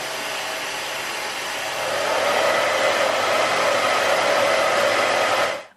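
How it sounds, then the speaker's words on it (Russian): A Soocas Airfly P1 hair dryer with triple noise reduction blows a steady, close, airy whoosh that swells a little louder partway through, then cuts off abruptly at the end. "У этого фена есть тройное шумоподавление, и уровень шума составляет 76 дБ."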